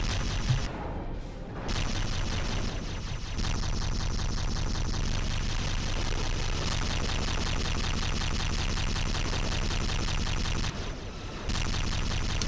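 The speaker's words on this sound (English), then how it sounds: "Oh gosh, that is a lot of torpedoes." Rapid torpedo and weapons fire from a Star Trek starship space battle in a video game, set to extreme AI, forms a dense, continuous barrage of booming shots with two brief lulls and no talking.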